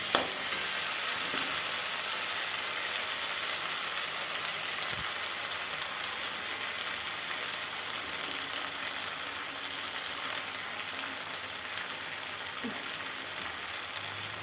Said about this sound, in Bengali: তো এই যে এটা এখন আমি কষাতে থাকবো।